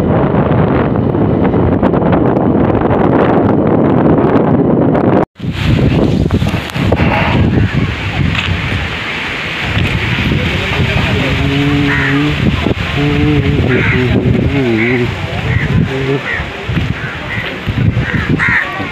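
Stormy wind at Rajsamand lake, caught from a moving motorbike, roars and buffets loudly against the microphone with one brief dropout. Crows caw and other faint sounds come through the gusts.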